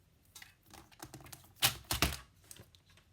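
Paper being trimmed with snips for a handmade holiday card, a series of short crisp clicking cuts with two louder snips near the middle, close and fairly quiet, no talking.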